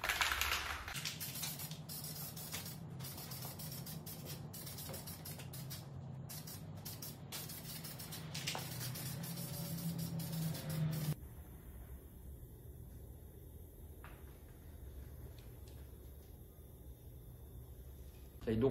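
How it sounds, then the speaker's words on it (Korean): A rust converter hisses steadily from a spray can onto the welded underbody seams of a Hyundai Grandeur before ceramic undercoating. The close, continuous spray runs for about eleven seconds, then drops to a quieter hiss with faint scattered bursts. "녹 환원제 같은 경우에는 저희처럼 스프레이를 쓰는 그 업체가 있고요"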